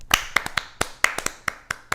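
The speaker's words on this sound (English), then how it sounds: "A round of applause for now" A few hands clap unevenly in short, sharp bursts, roughly eight separate claps over two seconds, close and fairly dry, with no crowd roar behind them.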